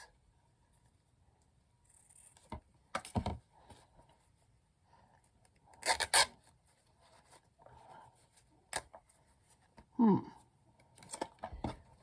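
Scissors snip through thin paper while tags are being made, a few short, crisp cuts spaced apart over quiet handling noise and soft rustling, close and fairly faint.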